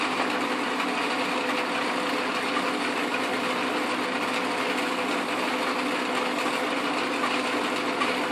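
An Atlas/Craftsman QC42 metal lathe cutting down a tailstock nut, a loud steady mechanical whir and hum running unbroken and close throughout with no talk.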